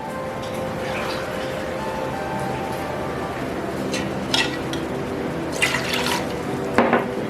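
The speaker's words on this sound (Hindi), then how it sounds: "1 गिलास पानी और डालेंगे।" Water pours in a steady rushing stream into a pot for steam-roasting chicken, with a few brighter splashes near the end and no talking.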